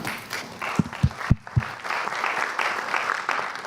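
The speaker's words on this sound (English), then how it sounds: "I think you should reserve the applause for the end." An audience at a security conference in Europe claps to welcome a presenter, a few loud hand claps at first, then a steady wash of applause that holds to the end.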